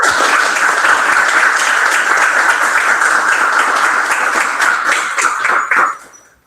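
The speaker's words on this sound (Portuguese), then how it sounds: "Pedir também uma salva de palmas ali do pessoal também" Sustained applause from an audience at a talk on software engineering in payments, dense and steady clapping close by, cutting off sharply near the end.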